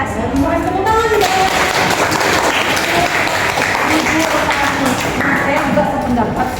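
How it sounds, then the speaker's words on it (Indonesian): Dense, steady clapping fills the room at a teachers' group session. A voice is briefly audible at the start, and the applause continues evenly throughout. "Tepuk tangan juga."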